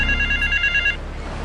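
A telephone rings in the video game Grand Theft Auto III, with a bright, repeating electronic trill that is loud and close for about a second before stopping, leaving a low background hum.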